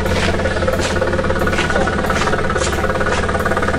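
A Karimun Wagon engine idles through an HKS dual-side exhaust, a steady low rumble with a slight knocking pulse, close up and continuous with no talk.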